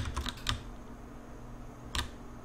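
Soft keystrokes on a computer keyboard as arrow keys and WASD are pressed: a quick cluster of clicks, a pause, then one more tap, quiet and close.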